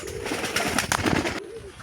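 Pigeons cooing close by on a pigeon farm, soft throaty calls repeating over a busy background of fluttering and shuffling.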